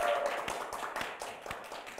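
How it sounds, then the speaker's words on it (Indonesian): A small group claps briefly during a casual talk-show chat, a few sparse, distinct hand claps close by with little else around them. "tepuk tangan dong, woi"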